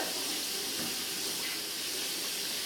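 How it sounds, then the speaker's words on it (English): Hot tap water runs steadily over hands at a kitchen sink while cooking chicken, a loud, even splashing hiss with no break. "I'm going to wash my hands with some hot soapy water."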